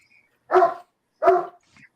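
A pet dog indoors lets out two loud, sharp barks in quick succession close by, followed by a faint short yip, with silence between them.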